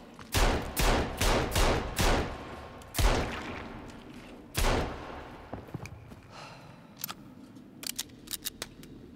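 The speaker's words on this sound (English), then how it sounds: "I don't know how many pistol shots that was now." Pistol in the video game Sons of the Forest fires a quick run of loud shots, several in a rapid cluster, then two more spaced shots, followed by fainter sharp clicks and taps.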